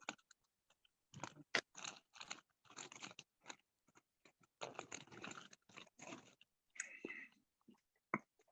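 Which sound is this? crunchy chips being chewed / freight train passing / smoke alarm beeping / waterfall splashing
crunchy chips being chewed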